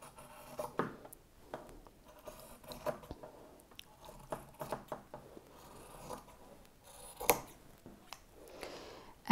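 Scissors cut through fabric for a woven art piece, a faint, close series of irregular snips and crisp slices.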